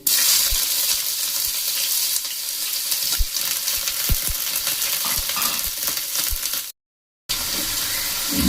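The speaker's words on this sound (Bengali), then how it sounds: "এখন এগুলোকে আমি একটু হালকা ব্রাউন কালার করে ভেজে নেবো" Finely sliced onions frying in hot oil give a dense, steady sizzle, with occasional low knocks of stirring and a brief dropout near the end.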